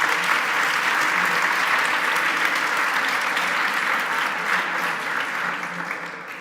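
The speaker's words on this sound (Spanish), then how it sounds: "Aplaudidle o algo." Audience applause at a book presentation, a steady, dense clapping that holds evenly for several seconds and tapers slightly at the end, with no talk over it.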